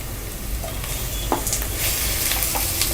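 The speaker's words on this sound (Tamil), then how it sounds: "தக்காளியும் நல்லா வதங்கணும்." Chopped tomatoes sautéing with onions in oil for mutton biryani, a steady close sizzle and crackle with a few spoon stirs scraping the pan, no talking.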